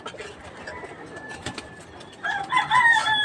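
A pigeon coos close by in an outdoor yard, its soft calls swelling toward the end, with faint voices and background noise around it.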